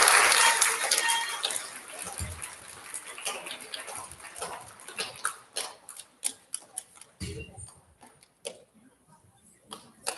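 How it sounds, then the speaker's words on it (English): An elementary school recognition ceremony audience applauds its fifth graders, a dense burst of clapping that thins into scattered, fading claps, heard at a modest distance in a large room. "Round of applause for our fifth graders."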